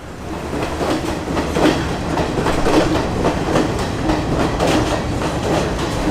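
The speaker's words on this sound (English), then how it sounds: "The train's here, let's get on." A train in Sri Lanka rumbles along steadily into a station with rhythmic clickety-clack of wheels over rail joints, fairly loud and continuous, with no voices.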